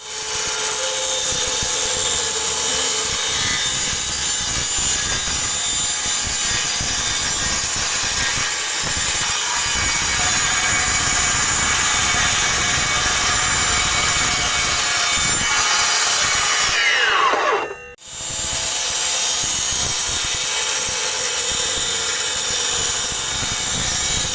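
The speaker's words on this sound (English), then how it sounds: "Let's do a few cuts, starting with aluminum, 2mm thick." A Parkside PPMSA 20-Li A1 cordless metal circular saw cuts through 2mm aluminum, a loud continuous high-pitched whine and grind that runs steadily, then briefly drops out as the cut finishes and the blade spins on.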